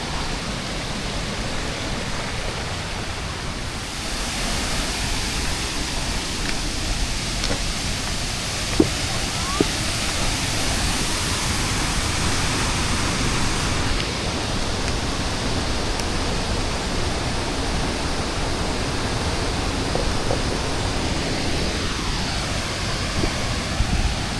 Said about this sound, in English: we're going to hop over to the base of the waterfall and get a bit of a look around